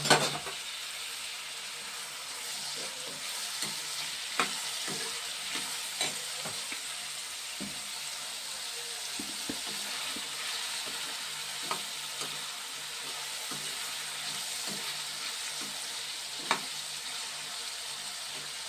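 Cut potatoes fry in a pan, giving a soft continuous sizzle broken by occasional sharp stirring clicks and scrapes close by, with no voices.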